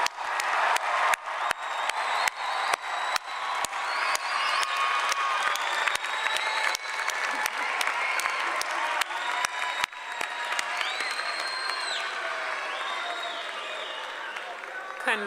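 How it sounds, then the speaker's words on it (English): Crowd applause and cheering for graduates at a college commencement ceremony, loud sustained clapping with scattered whoops and shouts, gradually thinning toward the end. "Let's give our graduates a round of applause,"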